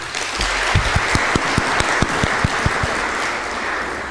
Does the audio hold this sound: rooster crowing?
no